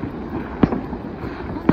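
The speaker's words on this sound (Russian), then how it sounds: "долго идет салют." Festive fireworks over a residential area in the evening, two sharp distant bangs about a second apart above a faint background hum.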